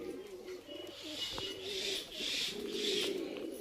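Pigeons coo at a breeding loft, several soft, throaty rolling calls that repeat at a steady pace, close and fairly loud, with a hiss of background noise and no speech.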